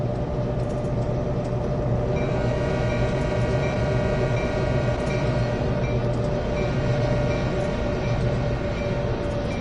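Canadian National GP9RM diesel locomotives in Train Sim World 2 on the Oakville Subdivision, a pair at the head of the train, giving a steady loud engine drone with rail rumble that holds throughout, no voices.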